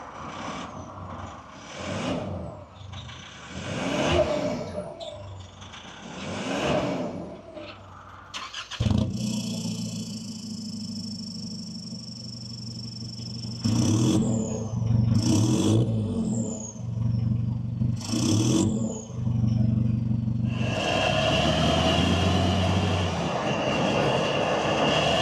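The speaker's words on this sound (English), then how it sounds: "I'm going to cut to the previous sound of the standard exhaust and then the sound afterwards" A Nissan Navara exhaust idles with short repeated revving swells on the standard system, then switches to a deeper, louder, sustained rumble with further revs from the aftermarket exhaust.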